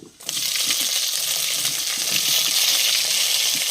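Onions go into a hot pan of oil that already holds green chillies, setting off a loud, steady sizzle that starts abruptly and stays strong throughout.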